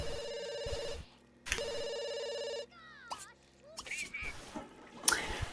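A telephone rings in two long bursts of a steady electronic ring, close and fairly loud, followed by brief squeaky noises and clatter.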